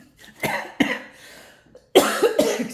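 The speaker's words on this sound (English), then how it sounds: "Excuse me for coughing." A man coughs several times in short, harsh bursts, close to the microphone, with a pause between the first two coughs and a tighter final cluster.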